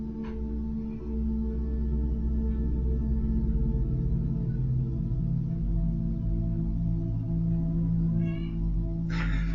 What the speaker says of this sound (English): Why is she meowing that much?